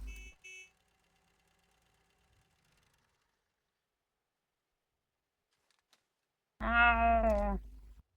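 A car horn honks in the video game PUBG on the Erangel map, with two short beeps at the start, then a near-silent stretch and one longer, loud blaring honk near the end, with no talk over it.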